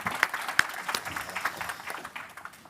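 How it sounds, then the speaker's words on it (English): Audience at a business panel session applauding the panelists, a fairly quiet, steady patter of many hands with a few sharper claps standing out, heard at a distance throughout. "So if we can give a warm round of applause for our panelists."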